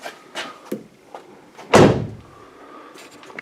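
A Nissan Murano door opens after body repair: a few light clicks, then one solid, loud thunk from the latch, followed by a soft fading mechanical whir.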